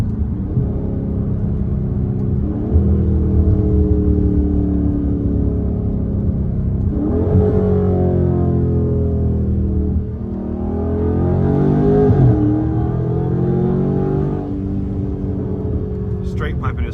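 A straight-piped Dodge Charger Scat Pack at night, its engine droning loud and close from the cabin, with rising and falling revs as it accelerates, shifts and pulls again.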